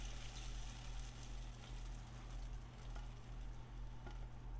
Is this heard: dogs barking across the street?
no